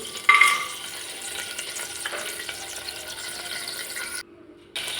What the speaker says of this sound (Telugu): ఇది కొంచెం హీట్ అయిన తర్వాత హోల్ బిర్యానీ దినుసులు అనేవి యాడ్ చేసుకుంటున్నాను